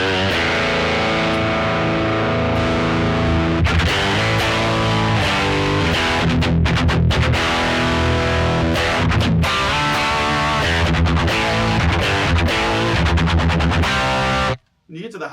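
A boosted high-gain rock electric guitar played through a Bad Cat PurePath analog cab sim, with dense distorted chords and sharp stabs ringing loud and continuous for about fourteen seconds before a sudden cutoff.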